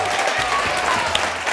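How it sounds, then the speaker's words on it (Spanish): Brief, steady burst of audience applause on a Spanish television quiz show, dense and continuous with crowd noise and some talk underneath. "Un aplauso para ellos."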